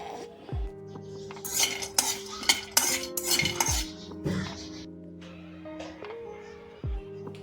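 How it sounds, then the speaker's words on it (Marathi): Almonds dry roasting in a pan over a low flame, with a spoon repeatedly scraping and clinking against the metal and some short rattling bursts in between, close and fairly quiet. "सो आता हे सगळं भाजून घेते आणि फर्स्ट बदाम भाजून घेते. एकदम मंद आचेवर भाजते."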